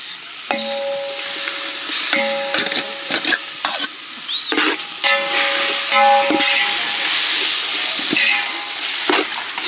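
Ginger garlic paste fries in a pan for a goat intestine gravy, loud and close, with repeated spoon scrapes and clinks on the metal pan over a bright sizzle; there is no talking.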